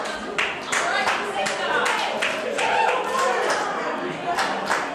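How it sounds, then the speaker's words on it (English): A dance group at a coffeehouse event claps hands in rhythm, distinct repeated claps in a steady pattern with a speaker talking over them. "So it's clap, clap, side, clap, clap, side, clap, clap, side."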